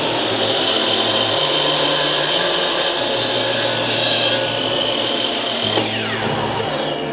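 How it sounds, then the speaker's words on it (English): Miter saw cutting wooden boards for a basement storage build, a loud, close, continuous saw whine through the cut with shifting pitch and a spin-down near the end, no talking. "I'm gonna use a miter saw"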